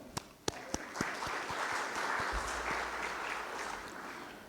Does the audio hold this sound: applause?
yes